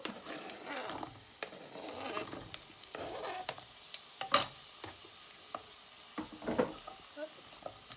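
Chorizo sizzling in a frying pan alongside rice as it is stirred, a quiet crackling fry with occasional utensil scrapes and clinks against the pan.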